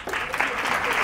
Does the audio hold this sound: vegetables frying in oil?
no